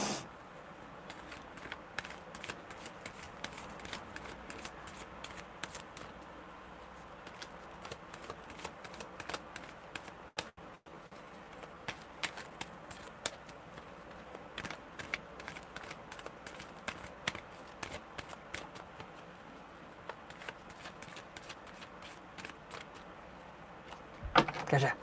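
Tarot cards shuffled by hand in long continuous bursts of soft riffling and flicking, close and fairly quiet, with brief pauses and a few sharper card snaps.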